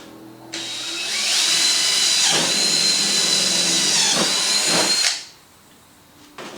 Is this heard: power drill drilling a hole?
yes